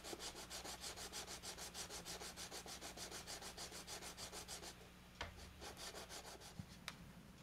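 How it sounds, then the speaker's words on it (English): A wooden ring being sanded inside its hole with sandpaper wrapped around a socket, a fast steady back-and-forth rubbing rasp that repeats for several seconds, then slows into scattered scrapes and light knocks. "I'm just going to wrap some sandpaper around a slightly smaller socket, and then I'm going to stick it in the hole and go ham on it."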